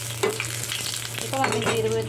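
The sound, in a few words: cumin, dried chili and bay leaves frying in oil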